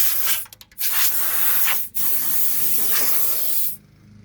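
Compressed air blasts debris off the mower deck of a John Deere X758 4x4 diesel tractor in loud broad hissing bursts, stopping briefly between pulls of the nozzle.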